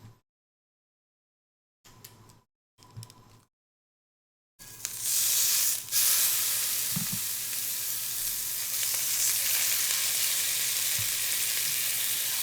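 Meat searing in hot, smoking oil in a pan: a few quiet clicks and knocks, then a loud, close, sustained sizzling hiss that holds steady to the end.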